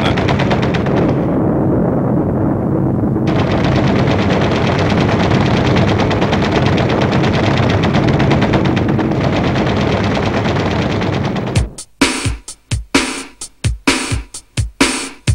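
A dense, continuous roar of rapid machine-gun fire from a B-25 Mitchell bomber, loud and close, breaks off into separate sharp bursts and single shots near the end.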